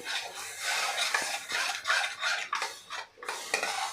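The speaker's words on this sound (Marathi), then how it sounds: "तर बघा पटपट अशी आपल्याला ही चटणी हलवून घ्यायची आहे।" Yogurt chutney being stirred briskly in a pan: quick, repeated scraping strokes of a spoon against the metal, close and fairly loud, with a light sizzle underneath and no talking.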